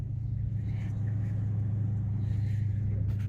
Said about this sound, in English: I'm literally sitting in my car, kind of driving it around